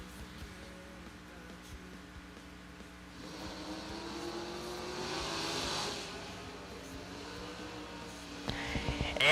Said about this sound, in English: Anthony Fetch out of the burnout box here, the 1992 Camaro out of Colonia, New Jersey.